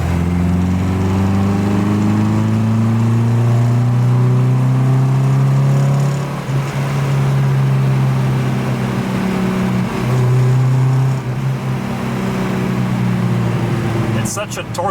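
An MGB car engine drones loudly and steadily, pitch dipping and climbing as it revs after a downshift, with a person speaking over the engine.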